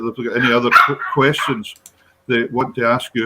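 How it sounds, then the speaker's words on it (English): A pet dog barks and yips excitedly from a couch indoors, its bursts mixed in with someone talking nearby, with a short quiet gap midway before the voice and barking resume. "That's my dog going crazy on the couch"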